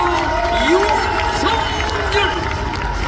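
A large crowd at a party convention cheers and claps continuously, a loud sustained roar with shouting voices mixed in throughout.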